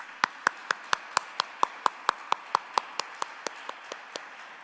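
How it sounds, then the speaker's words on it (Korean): A Korean church congregation gives rhythmic handclaps at a Sunday service, about twenty crisp, evenly spaced claps in a steady beat that soften toward the end over a quiet room. "우리 하나님께 영광의 박수 올려드리겠습니다."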